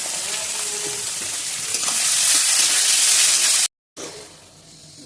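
Onion and tomato fry in a pan for a Bengali banana-flower dish, giving a loud, steady sizzle with stirring scrapes, cut off by a brief silence before the frying resumes.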